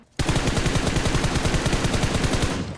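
Rapid automatic gunfire in PUBG Mobile, a loud, steady stream of closely spaced shots lasting nearly three seconds, starting abruptly after a short quiet moment.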